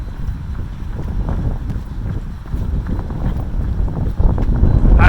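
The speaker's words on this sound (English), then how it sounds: "It's kind of windy, so hopefully it's picking up the audio" Wind gusting on a New York City street on New Year's Eve, a steady low rumbling buffet against the microphone that holds throughout and swells louder near the end, with no talking.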